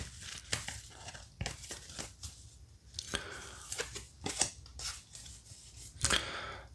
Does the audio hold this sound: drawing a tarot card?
yes